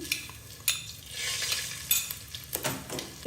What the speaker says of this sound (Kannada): ಜೀರಿಗೆ ಸ್ವಲ್ಪ ಎಣ್ಣೆನಲ್ಲಿ ಫ್ರೈ ಮಾಡ್ಕೊಳ್ಳೋಣ